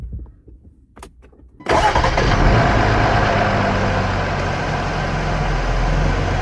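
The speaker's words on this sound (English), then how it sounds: "Here is startup." A Jeep Wrangler engine cranks and catches after a few quiet clicks, the start caught by a microphone under the hood, then settles into a loud, even idle that holds to the end.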